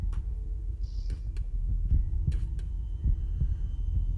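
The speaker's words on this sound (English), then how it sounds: "the heartbeat returns" A heartbeat sound effect throbs in a steady, low, muffled rhythm of repeated double thumps with a faint hum beneath, alone without voices.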